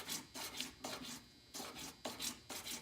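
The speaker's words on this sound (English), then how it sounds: "I'm sanding this. I'm trying to get rid of a few marks." A metal pendant is hand-sanded in rhythmic back-and-forth strokes, a soft, close rasping scrape repeating about every half second with no talk.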